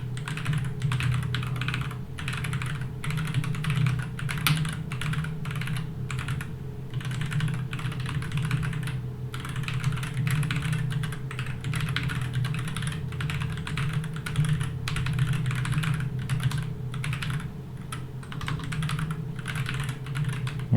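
Keyboard typing during a typing video game, a steady, dense run of quick key clicks continuing without pause over a low background hum, with no talking.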